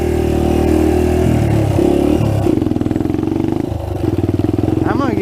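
A trail bike engine that was previously seized and rebuilt bogs down, its loud close rumble sagging and stuttering as it nearly stalls, then picks back up into a rough, uneven idle.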